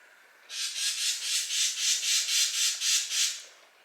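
A bird gives a rapid run of about ten harsh, rasping squawks in a steady rhythm, fairly close and loud, with no talking.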